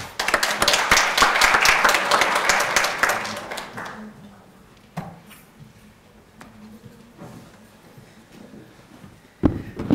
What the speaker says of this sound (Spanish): Unas palmas, por favor.